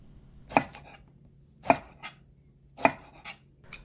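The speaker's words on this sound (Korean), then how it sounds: "반으로 자른 가지는 화면처럼 대각선으로 잘라주시고요." A knife chops halved eggplant on a cutting board with diagonal cuts, sounding as three crisp, close thumps, each trailed by a softer tap, spaced about a second apart in a quiet kitchen.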